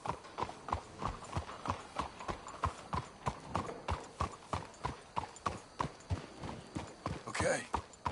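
Steady clip-clop of several horses' hooves trotting close by in a video game, a brisk even rhythm throughout with a faint whinny near the end.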